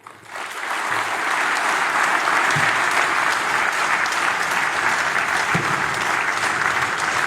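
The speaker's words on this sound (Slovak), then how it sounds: "Tento potlesk, aj standing ovation" A crowd rises in a standing ovation for a new Hall of Fame inductee, with dense, steady applause that swells within the first second and holds loud and unbroken throughout.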